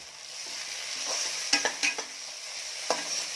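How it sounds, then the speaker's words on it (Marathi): Tomatoes frying with browned onions in a pan for Kolhapuri mutton, a steady close sizzle with a few sharp clacks of a spoon stirring against the pan. "टोमॅटो छान लालसर करून घेऊया"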